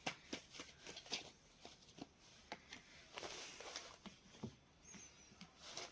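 Tarot cards are shuffled and handled close by in a quiet room, giving soft, irregular papery riffles and taps spread over several seconds.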